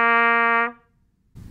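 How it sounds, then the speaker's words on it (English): A trumpet sounds one steady open note with no valves pressed. The tone is bright and sustained for about two-thirds of a second, then cuts off into near silence before a brief thump at the end. "So if I don't press any of these valves down, it sounds like this."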